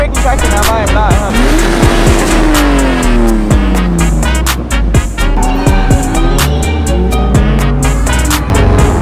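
A turbocharged car driven hard through a drift turn, its engine revving loud and close while the tires squeal in long rising and falling wails, with a voice talking over it.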